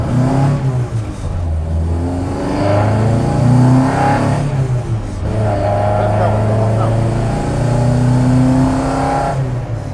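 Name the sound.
Ford Escort Zetec engine revving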